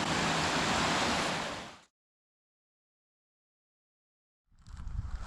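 River water surging over a water wall along the riverbank, a loud, dense wash of rushing noise that cuts off abruptly, followed by silence and then a softer return of flowing water.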